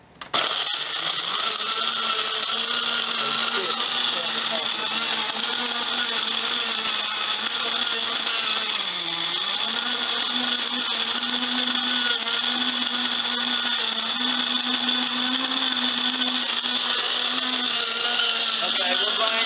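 An electric grinder runs continuously on roasted organic coffee beans, a loud steady whir with a brief dip in pitch partway through as the beans shift, holding near and constant for the whole stretch.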